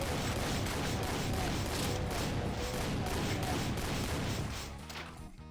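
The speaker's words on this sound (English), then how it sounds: "It's the heavy machine gun" A heavy machine gun in Doom fires in a rapid, steady stream of loud shots, layered with crashing impacts, then tapers off near the end.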